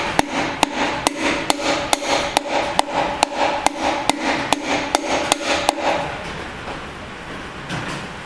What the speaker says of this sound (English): I will hold that compressor down and I will easily tap this thing in.